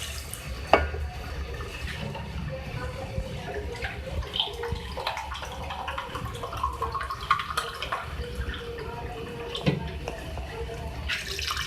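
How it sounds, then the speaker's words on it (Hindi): Two glasses of water pour and splash into a pot of fried beef for several seconds, a running, gurgling stream with someone talking over it. "अब इसमें गलाने के लिए इसको 2 गिलास पानी ऐड कर रही हूँ।"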